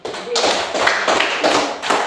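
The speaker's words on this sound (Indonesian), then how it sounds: "Tepuk tangan dulu." Classroom clapping for a pupil after a primary-school maths lesson, a dense patter of hand claps in bursts under teacher and children's voices.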